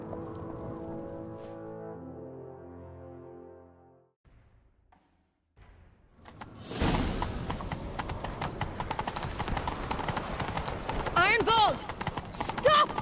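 Rapid hoofbeats of a galloping horse in The Witcher 3: Wild Hunt pound steadily up close, mixed with game music and intermittent voices, following a tonal musical passage and a brief lull.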